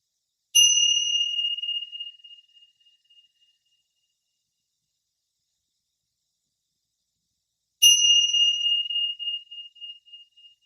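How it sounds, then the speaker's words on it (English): Two separate rings of a bell during a yoga breathing exercise, several seconds apart, each a clear bright strike that decays gradually into silence with nothing else audible. "When you hear the bell,"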